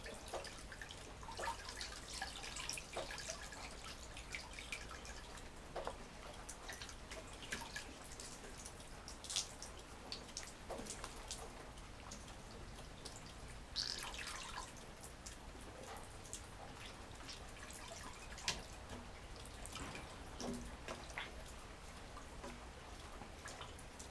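A raccoon hide is rinsed in fresh, unsalted water to wash the salt out, giving quiet, irregular splashes, drips and sloshing that run steadily throughout with no voices.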